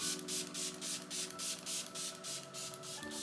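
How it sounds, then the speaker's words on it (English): Repeated quick pumps of a Benefit Cosmetics Professional Setting Spray misted onto a face, about a dozen soft hissing bursts in an even rhythm over faint music. "I'm gonna go in with the Professional Setting Spray from Benefit Cosmetics first"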